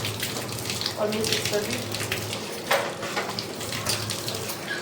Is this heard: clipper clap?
no